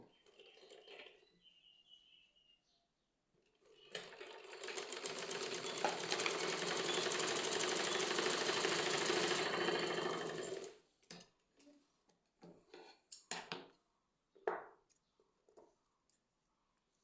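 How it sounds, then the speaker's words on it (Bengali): A sewing machine runs a long seam down to the bottom of the fabric in one steady, loud close whirring burst of about six seconds, bracketed by quiet handling clicks and rustles. "বেল থেকে 3-4 ইঞ্চি বাদ দিয়ে একদম নিচ পর্যন্ত সেলাই করে নেব"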